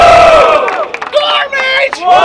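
Crowd cheering and yelling at a Rio de Janeiro rap battle in support of battle rapper Torment, a loud, dense roar of whoops and shouts that swells and dips over about two seconds.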